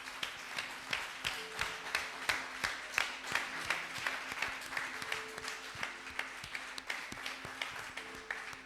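A church congregation at a Sunday service applauding in a steady rhythmic beat, many hands clapping together, moderately distant, with a sustained background tone underneath.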